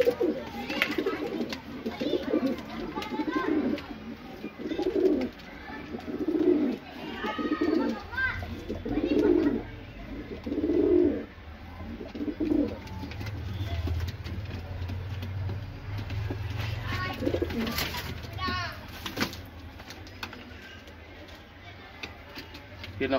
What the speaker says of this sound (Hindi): ये नक्ता कबूतर।